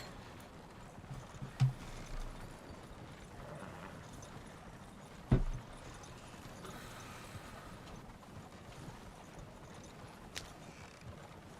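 Horse hooves clop on a road in the video game Red Dead (WildRP), a faint, soft rhythmic stepping under a quiet background, broken by a couple of brief louder knocks.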